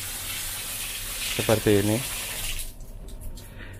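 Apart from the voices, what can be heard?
water pouring from a wooden spout shower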